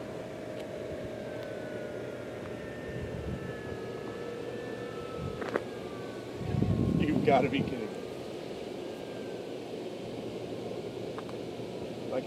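A steady whine of a small electric model plane hums in the background, its battery failing on the climb, with a brief louder burst and a short spoken exclamation midway.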